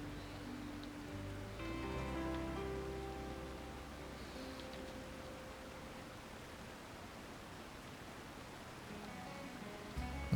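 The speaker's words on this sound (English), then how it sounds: "Listening to the sound of the rain." Steady rain falls across an open landscape in the video game Red Dead Redemption II, a soft continuous hiss with low tonal music-like hums early on, fairly quiet and even throughout with no voices.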